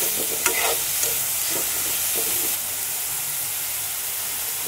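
Ginger paste sizzles loudly in a hot pan during village-style chicken posto cooking, with brisk scraping strokes of a stirring spoon over the hiss, easing slightly toward the end.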